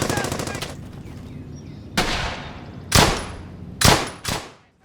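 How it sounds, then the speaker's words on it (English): Machine gun team firing in the video game Brothers in Arms: Hell's Highway, a rapid burst followed by several loud separated volleys of gunfire with echoing decay. "have this MG team firing, suppressing these guys"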